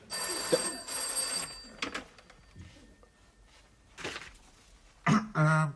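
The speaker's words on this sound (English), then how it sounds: "There is nobody here to answer the phone." A telephone rings in an office in a British sitcom scene, its bell tone dense through the first two seconds, then fading among sparse clatter and brief throat-clearing noises toward the end.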